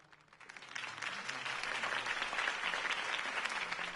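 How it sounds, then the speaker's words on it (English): Crowd applause after a campaign speech in the Batman Telltale Series video game swells from soft clapping into steady, dense applause from a large audience that holds to the end. "could have heard that applause"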